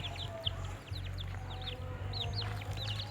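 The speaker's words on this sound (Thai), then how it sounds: "อันนี้เป็นไก่ชน" A fighting rooster clucks in a rural village in Isan, northeastern Thailand, with several short calls scattered over a steady low background hum and faint chirps from other birds.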